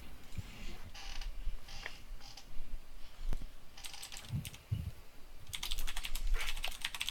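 Keyboard typing in short bursts separated by quieter gaps, the clicks close and moderately loud, with a faint creaking noise and some low background rumble.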